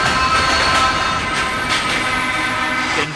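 A train rolls past in a VR horror game, a steady loud rumble of rail noise with metallic ringing tones held throughout, close and continuous with no talk.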